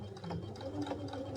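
A sewing machine stitches around the rounded curve of a shirt collar, a quiet, brief, continuous mechanical whir with a faint rapid needle rhythm.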